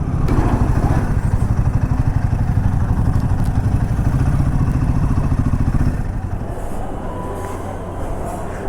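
A motorcycle idles and putters close by with a rapid, loud, throbbing engine rhythm while being moved into a hotel compound, easing off slightly toward the end.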